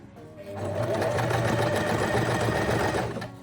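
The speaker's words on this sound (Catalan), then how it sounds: "Començo a cosir una mica després del piquete. Comencem marxa enrere." A sewing machine stitches a dart in fabric, starting with a backstitch, and runs as one steady motor whir for about three seconds before stopping, with no voices.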